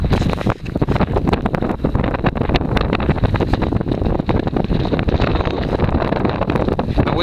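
Wind blows hard across an anchored Albin Vega sailboat near Governors Harbour, a loud, constant buffeting roar of gusts hitting the microphone, with no let-up and no talk.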